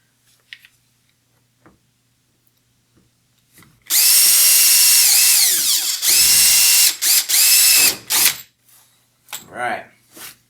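A power drill bores a hole through the hull of a Hobie Pro Angler kayak, a loud high whine running about four seconds, then short stop-start bursts, with quiet handling noises before and after.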